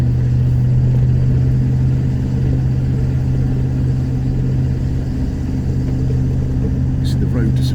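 A 1993 Range Rover Classic climbs a very steep hill, its engine giving a loud, steady low drone and rumble heard from inside the cabin, with someone talking over it.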